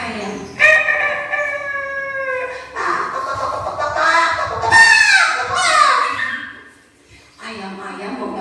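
A storyteller's voice imitates a rooster crowing with a long, drawn-out, falling call, followed by more animated vocal sounds from the storyteller and children, close and fairly loud.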